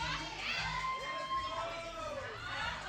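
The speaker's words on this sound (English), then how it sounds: "You can hear the fans getting behind him." A wrestling crowd cheering, a steady dense roar of shouting fans that fills the whole stretch, with voices talking over it.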